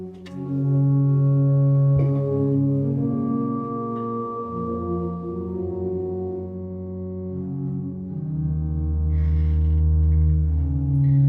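A pipe organ with 16-foot registration plays sustained chords over deep, booming bass pedal notes, the harmony shifting slowly and filling the space, with no voices.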